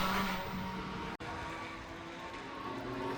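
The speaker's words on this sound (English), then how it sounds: "some track action with touring cars for their practice session" Engine roar of touring race cars on track during practice at Oulton Park, a steady loud drone with a brief cut partway through, no voices.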